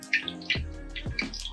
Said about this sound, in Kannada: ಎಣ್ಣೆ ಕುದಿತದೆ